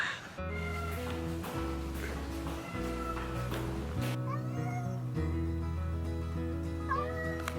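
A cat meows repeatedly up close, drawn-out and whiny, over a sustained low droning hum. A person speaks briefly.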